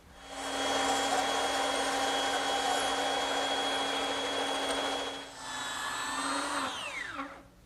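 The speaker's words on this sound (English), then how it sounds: "but I'm going to use the bandsaw" A bandsaw runs with a steady high whine while cutting scallop shapes out of wood, holding loud and even for several seconds before the pitch drops as it spins down.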